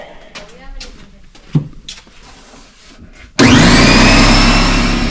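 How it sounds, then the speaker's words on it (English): Air compressor in a garage during an Armorlite flooring install in a Jeep Wrangler JKU, kicking on abruptly after quiet shuffling and handling noises and running loud and steady with a rising whine as it builds pressure. "I'll fire up the compressor."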